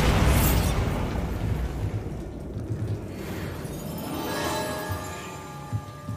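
A Bombarda spell explosion in the video game Hogwarts Legacy, a loud deep boom that rumbles and fades into a lingering, crackling tail.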